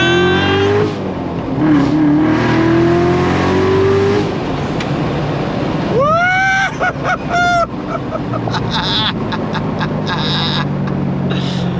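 A Lingenfelter 720 Corvette C7 Z06 with a 7-speed manual revs loudly under throttle, its engine note climbing and then dropping and rising again through gear changes, close and dominant throughout.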